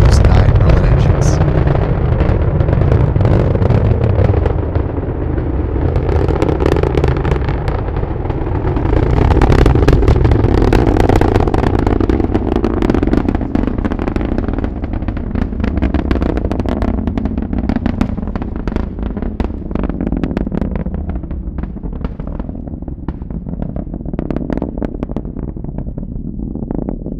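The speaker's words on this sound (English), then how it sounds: "Let's listen to more of those 9 Merlin engines." A SpaceX Falcon 9 rocket's nine Merlin engines roar during a Starlink launch from Florida, a loud continuous crackling rumble that slowly shifts in tone as the rocket climbs.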